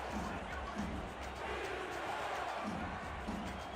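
Stadium crowd at a Los Angeles football game makes a steady, distant roar of many voices, continuous and fairly faint, with some talk over it.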